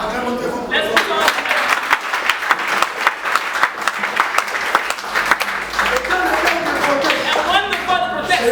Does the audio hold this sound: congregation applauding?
yes